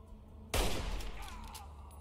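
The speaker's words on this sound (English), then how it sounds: "It's really like a machine gun with a scope." In Fallout 3, a machine gun fitted with a scope opens fire in a sudden loud burst of rapid shots, and the sound fades into an echoing tail.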